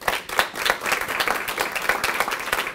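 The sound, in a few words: audience applause at ribbon cutting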